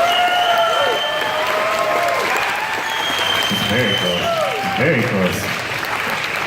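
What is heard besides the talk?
audience clapping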